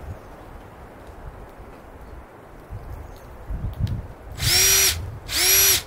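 Two loud, sustained bursts from a Milwaukee M18 cordless impact driver running near the end, after a quieter stretch of handling noise, each with a steady whining motor tone.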